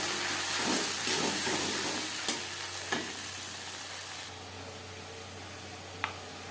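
Tomato, onion and spice paste frying in a pan, a dense sizzle that drops to a quieter hiss partway through, with a few sharp clicks of a utensil against the pan.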